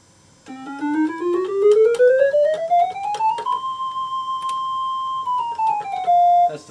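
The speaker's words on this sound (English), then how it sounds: "That's the flute voice." JCS BN-1 4-bit linear PCM synthesizer flute voice: a single bright, buzzy tone glides steadily upward, holds a long note, then slides back down and settles, heard alone and close.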